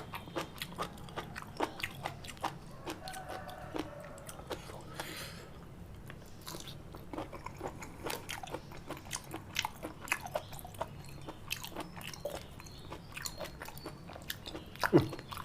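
Spicy Thai-Lao salad of crunchy jellyfish and fresh shrimp with fermented fish sauce being bitten and chewed up close, a steady run of crisp crunches and wet chewing with no talk.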